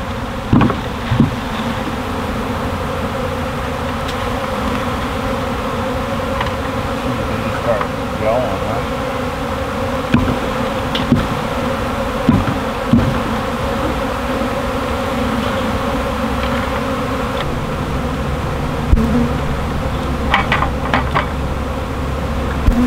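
A dense, continuous buzz from a large swarm of bees hums throughout, loud and close, with scattered clicks and brief voices mixed in.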